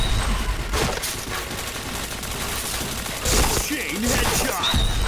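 Rapid gunfire in the Point Blank shooting game, loud bursts of shots and clanking mechanisms in a dense continuous stream, with a voice talking over the action.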